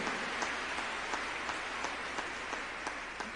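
Congregation applause during a church sermon, a steady wash of clapping with a few sharper individual claps standing out, moderately distant and fairly even throughout.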